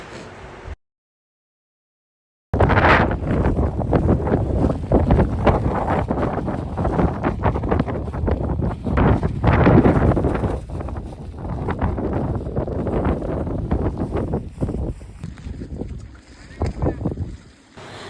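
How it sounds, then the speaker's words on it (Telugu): Strong wind buffets the microphone on mountain trek steps in Chikkamagaluru during the monsoon, a loud continuous roar with gusty surges after a brief silent gap, with voices faintly present underneath. "ఎంత గాలి వేస్తుందో మనకి"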